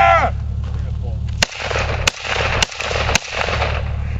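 Gunshots fired at a target outdoors at a swamp, four sharp loud cracks spaced roughly half a second apart over a steady windy background.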